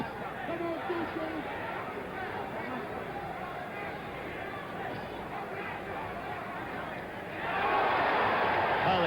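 A boxing arena crowd at the Ken Norton versus Muhammad Ali fight reacting to a blow: a constant murmur of many voices that swells into a louder roar near the end.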